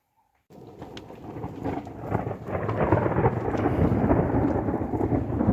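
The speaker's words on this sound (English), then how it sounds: "Just as the rain is coming" A thunderstorm breaks in the bush: after a brief silence, a deep rumble of thunder swells and rolls on while rain patters and hisses steadily, growing louder toward the end.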